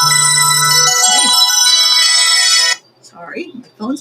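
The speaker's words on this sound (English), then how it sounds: "sorry, my phone's making noise." A mobile phone ringtone plays a bright, loud electronic melody for a few seconds, then cuts off as a voice starts talking.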